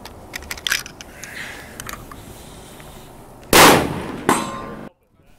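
Savage Axis rifle fired at long range outdoors: one sharp, loud report followed by a second, slightly weaker crack, with faint distant pops and light background noise before them.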